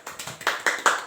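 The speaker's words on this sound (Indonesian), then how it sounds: "Beri tepuk tangan untuk kelompok 1." Classmates in a micro-teaching classroom clap for a student group, a short burst of several hand claps building toward louder, irregular slaps.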